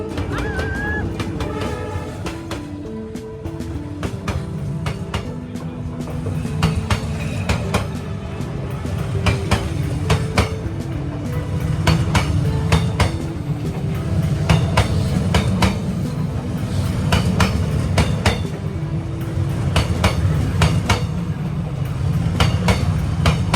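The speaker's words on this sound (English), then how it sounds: "the moment the train came through," A train rolls through Hanoi Train Street in Vietnam, with loud, close rumbling and steady clickety-clack of wheels on rails sustained throughout.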